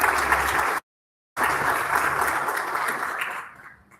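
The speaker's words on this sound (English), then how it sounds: "Can you give Dr. Ntola another round of applause" Audience at a waste innovation challenge launch applauds a speaker, steady dense clapping with a brief cut in the middle, then tapering off toward the end.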